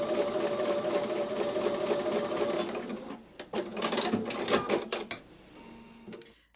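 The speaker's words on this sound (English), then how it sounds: "So I'm going to take those over to the sewing machine and sew with a 1/4 inch seam." A sewing machine runs a continuous 1/4 inch seam joining quilt block pieces, a steady close motor hum for a few seconds before giving way to rustling fabric and handling clatter.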